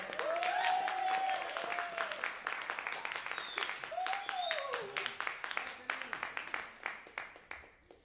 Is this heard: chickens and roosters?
no